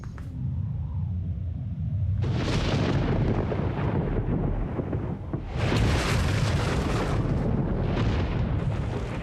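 Thunder ignites ancient oxygen-rich tropical forest air in a huge explosive combustion, a loud deep rumbling roar that swells after a couple of seconds, surges again midway and keeps booming continuously.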